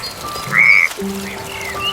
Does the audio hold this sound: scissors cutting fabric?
no